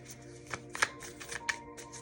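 Tarot cards riffle and snap in quick irregular bursts, close and crisp, a short shuffling flurry with no talking.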